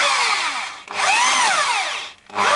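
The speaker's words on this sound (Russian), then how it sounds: "два отверстия я просверлил сверлом" An electric drill whirs in short bursts, its pitch sweeping up and down as it bores holes in a VAZ crankshaft gear, with brief pauses between runs.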